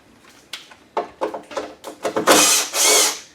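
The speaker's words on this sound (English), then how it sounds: "look at that drill go" A power drill works on a Toyota Camry being stripped for a demolition derby: a string of short, loud trigger bursts followed by two longer sustained whirs, close and with no talk.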